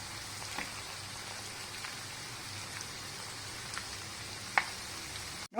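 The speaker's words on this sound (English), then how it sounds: "Now we fry our florets till they are golden color before taking it off the stove." Steady crackling sizzle of cauliflower florets deep frying in oil, with scattered small pops, moderately quiet and continuous with no talking.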